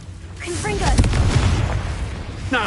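A Confringo fire spell explodes in a Harry Potter-style video game with a loud, deep boom that rolls on for a couple of seconds, while voices talk over the blast and its low rumble.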